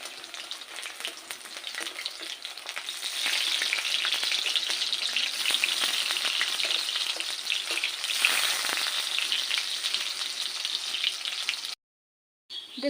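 Potatoes fry in a hot pan with a steady, dense sizzle that grows louder after a few seconds and stays close and continuous, then cuts off briefly near the end.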